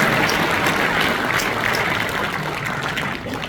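A party members' rally in the main hall of the Korea Rural Community Corporation breaks into steady, dense applause for an arriving official, sustained and slightly easing toward the end.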